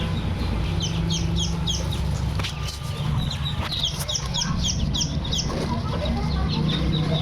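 Chinese duck ducklings gathered from village households give repeated high, thin peeping calls in a steady cluster throughout, over a constant low rumble of farm background noise.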